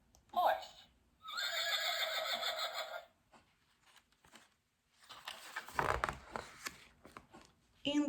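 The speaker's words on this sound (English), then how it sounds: "Horse." A horse whinnies loudly in a long, quavering neigh lasting about two seconds, preceded by a short snort and followed by softer rustling and breathy sounds, with no talk.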